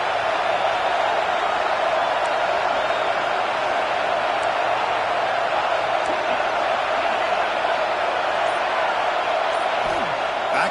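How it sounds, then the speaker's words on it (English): A stadium crowd in the College Football 26 video game roars as a dense, steady wall of noise. It holds at a constant, loud level with no breaks. "And wow, listen to this crowd place. This stadium is vibrating."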